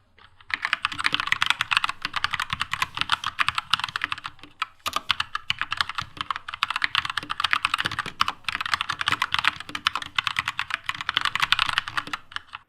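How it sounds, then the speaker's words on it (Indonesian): Rapid typing on a Keychron mechanical keyboard with red switches, steady clacking keystrokes up close in two long runs separated by a short pause. "Keychron Red Switch, jadi rada clicky tapi nggak terlalu berisik"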